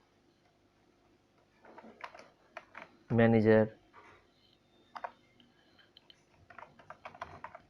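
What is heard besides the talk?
typing a letter on computer keyboard in MS Word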